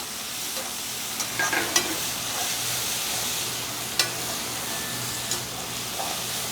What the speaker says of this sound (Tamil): தக்காளி போட்டாச்சுங்க. இது கொஞ்சம் நல்லா வதங்கட்டும்.